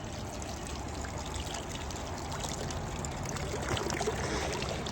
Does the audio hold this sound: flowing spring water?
yes